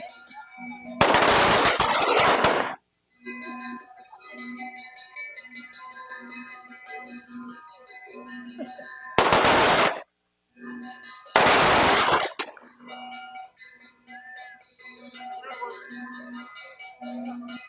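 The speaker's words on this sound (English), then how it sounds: "The firecrackers that you hear are designed to startle the young men who are trying to pick up" Firecrackers burst during a Bok Kai Parade Bomb Day, with three loud, dense crackling volleys, the first and last lasting about a second or more, over background voices and tonal sound.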